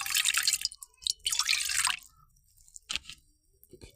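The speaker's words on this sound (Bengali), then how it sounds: "কড়াইতে যে পরিমাণ মতো পানি দিব।" Water poured from a vessel into a wok on a gas stove in a village kitchen: two long splashing, gushing bursts, then a few shorter drips and splashes trailing off, close and fairly loud.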